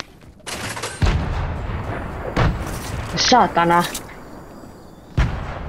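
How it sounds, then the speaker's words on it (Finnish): Grenade explosions and gunfire in the Fortnite video game, Season 6, with several sharp bursts and booms plus a rapid rattling volley, all under a voice talking throughout. "Ampuu mua, en tiiä. Granaateilla."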